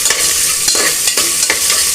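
Onions, both small and large, sauté loudly in a pan for country chicken curry, a dense continuous sizzle with rhythmic stirring scrapes every half second or so, close and unbroken by speech.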